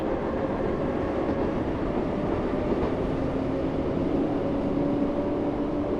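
Continuous rumbling rail noise of a train in the Train Sim World 4 video game rolling along the Isle of Wight track, a dense steady roar with faint rhythmic clatter and a thin whine rising underneath.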